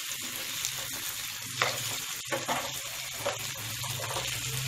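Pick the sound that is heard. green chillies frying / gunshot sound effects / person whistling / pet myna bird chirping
green chillies frying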